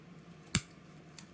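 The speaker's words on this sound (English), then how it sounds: "put my scissors right up against the outer base here" Sharp scissors snip through wicking cotton on vape coils in an OBS Engine tank: a single crisp cut close by, then a second fainter snip about half a second later, over quiet background.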